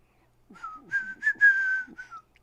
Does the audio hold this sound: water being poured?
no